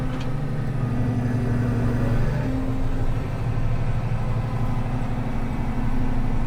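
A YTO LX 1404 tractor engine runs steadily on hand throttle with a loud, continuous low drone and a slight shift in pitch partway through, no voices.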